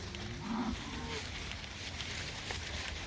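Bulls and cows mix in one herd on a pasture, with a single low moo early on and then quiet outdoor background and faint insect buzz.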